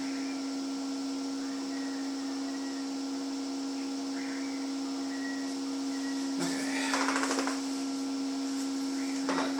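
A MIG welder lays a reference bead at 2.5 meters per second wire feed and 13.3 volts; a steady electrical hum runs throughout, then a short, loud crackling burst breaks in near the end before easing to a lighter crackle.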